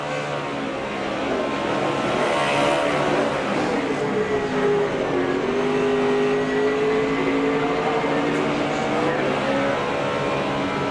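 NASCAR race cars roar past in a continuous loud engine drone, rising and falling in pitch as they race at speed, with Kyle Busch bouncing off the outside wall, steady and dense throughout.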